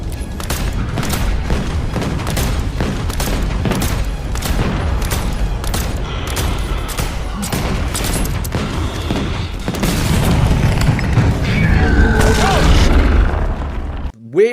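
Call of Duty Zombies gameplay with dense, rapid gunfire and booming blasts rolling on almost without pause, loud and close, with a shouting voice over the shooting.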